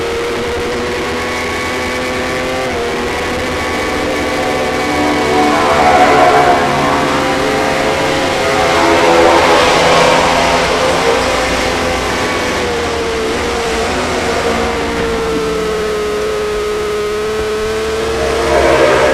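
250/300 production race motorcycles on a road circuit, engines whining loudly as several bikes pass in succession, the pitch swelling and falling with each pass.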